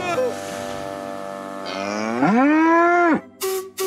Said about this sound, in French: Cette vache se balade toujours sur les voies et ça me met très en colère.